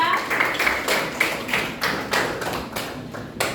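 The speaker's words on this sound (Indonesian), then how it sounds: "Oke, tepuk tangan buat kita." Students in a social studies classroom clap together, a run of loud, sharp, rhythmic claps in a steady beat from start to finish, nearby and fairly close to the recorder.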